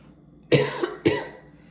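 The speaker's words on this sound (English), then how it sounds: "I have to cough." A woman coughs twice, close and fairly quiet, with a short pause between the two bursts in an otherwise quiet room.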